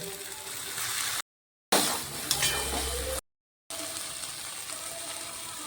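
Peas tossed into hot masala for matar paneer, frying in a pan with a steady sizzling hiss, broken by two brief silent gaps and a louder bubbling burst in the middle.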